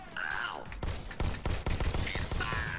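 Repeated pistol shots in the VR shooter Robo Recall, a run of sharp close bangs in uneven bursts over a background of electronic whines and game effects.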